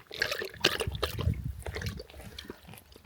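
Water from a hand-dug well splashes and trickles in uneven bursts, close and moderately loud, as it is scooped and poured for testing.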